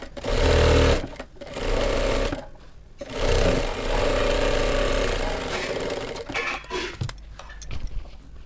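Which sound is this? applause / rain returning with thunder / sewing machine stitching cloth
sewing machine stitching cloth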